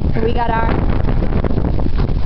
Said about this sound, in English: Okay, wind's a little strong.